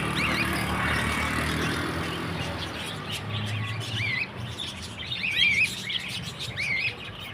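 Small birds chirp outdoors in repeated high, quick tweets, some close and clear, over a steady hum of road traffic passing in the background.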